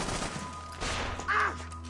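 A single sniper rifle shot rings out in a video game firefight, a short loud crack rising over a steady low hum of game ambience.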